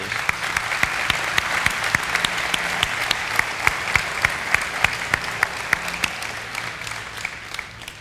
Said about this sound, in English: I want to give a round of applause for our educators